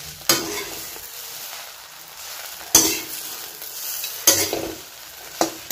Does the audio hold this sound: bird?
no